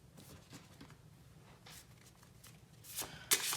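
Oracle cards are shuffled for a card reading, giving soft rhythmic riffling and sliding strokes that build to a brisker, louder burst of snapping cards near the end. Nobody speaks.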